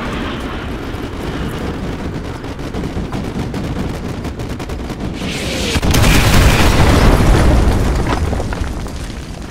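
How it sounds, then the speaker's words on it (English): Artillery strike in Call of Duty Modern Warfare 2, a steady rattle of gunfire building into a loud, heavy rumbling explosion barrage that swells around midway and slowly fades, close and powerful with no talk. "Artillery inbound. Coordinates confirmed. Firing."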